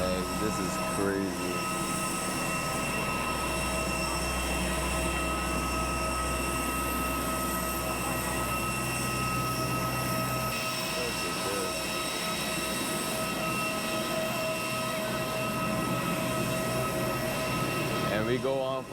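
Airport shuttle bus carrying Vietjet passengers across the apron to the plane, a steady loud engine rumble and road noise that runs throughout with a brief lull partway, while people talk over it.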